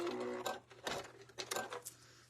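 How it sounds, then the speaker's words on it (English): A sewing machine backstitches a fabric seam in short bursts, a close, fairly quiet mechanical whir and rattle that starts and stops several times over a low steady motor hum. "I am going to backstitch again"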